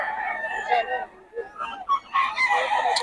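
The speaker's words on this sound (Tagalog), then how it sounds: "Manok ni Jun." A fighting rooster for sale at the Bocaue market crows in short bursts close by, amid market chatter and clucking from other fowl.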